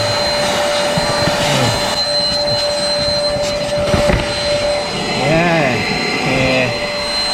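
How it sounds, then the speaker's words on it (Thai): A cordless iMac vacuum cleaner runs steadily close by, cleaning out dust and sand with a loud, even whine and hum, while someone talks over it. "เครื่องดูดฝุ่นไร้สาย iMac นะ"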